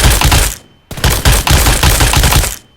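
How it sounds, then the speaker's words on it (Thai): Rapid bursts of automatic gunfire in the mobile shooter game PUBG Mobile, loud and close, with a brief pause between two strings of rattling shots. "แล้วก็ลองกดยิงไปนะครับ"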